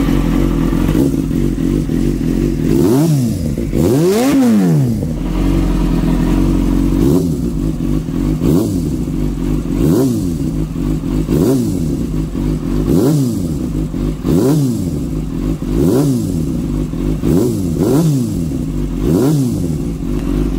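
A Kawasaki Ninja ZX-6R 636 sport motorcycle with a new exhaust revs repeatedly, each throttle blip rising and falling in a loud, rhythmic series over a steady idle.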